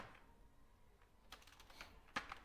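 Fingers tapping out letters on a computer keyboard, soft clustered key clicks that quicken into a brisk burst toward the end, faint and close, with no talking.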